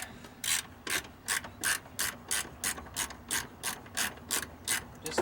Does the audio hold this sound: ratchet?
yes